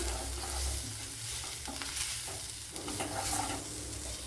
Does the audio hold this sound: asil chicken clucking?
no